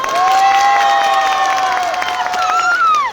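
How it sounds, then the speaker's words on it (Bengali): A crowd at an outdoor political rally claps loudly and steadily, with cheering mixed into the dense applause and a shrill whistle rising above it. "এর জন্য একটা জোরে হাততালি।"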